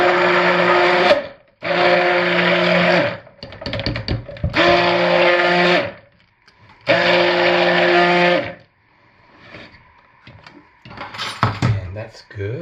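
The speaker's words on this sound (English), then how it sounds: "So I just put all the powder under the head of the stick blender, burp it, turn it on, and pull it up." A stick blender mixes cold process soap batter in three loud, steady humming bursts of about two seconds each, separated by pauses with softer clatter and handling noises.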